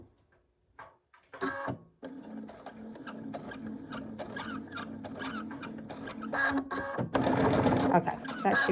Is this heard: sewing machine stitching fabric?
yes